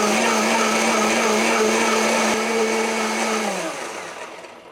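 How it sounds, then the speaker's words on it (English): A blender whirs loudly and steadily as it purees rice vinegar, soy sauce and maple syrup into a Japanese salad dressing, its motor pitch dipping slightly before winding down and fading out. "I'm going to put them into my blender"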